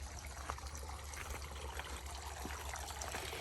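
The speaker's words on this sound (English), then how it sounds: "I have my water fountain going." A garden water fountain trickles and splashes steadily outdoors, a faint, continuous wash of falling water with a low background hum and no talking.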